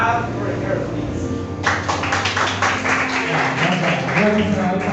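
Audience applause at a live event, a dense patter of many hands clapping that swells after the first moment and carries on steadily, with some voices mixed in underneath.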